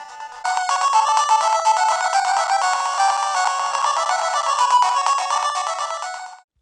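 Retro video game music plays from the tiny built-in speaker of a Powkiddy A30 handheld, a bright, thin, continuous chiptune melody heard close and alone for about six seconds before cutting off.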